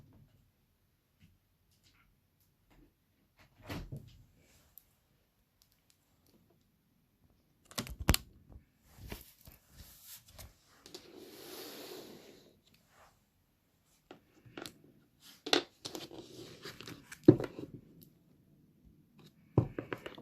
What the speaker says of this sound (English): I'm going to shuffle the cards before I begin.